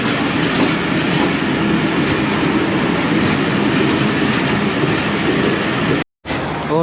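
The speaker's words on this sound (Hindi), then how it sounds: "और आखिरकार ये ट्रेन अब जा रही है पिंडी की तरफ।" Passenger train departing Jhelum toward Pindi, a loud continuous rumble of wheels on rails with steady rattling clatter heard from onboard, briefly cut to silence near the end before resuming.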